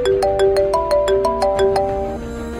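A phone's ringback tone plays while an outgoing call connects, a bright repeating electronic melody of evenly spaced notes that carries on steadily for a couple of seconds with no talk.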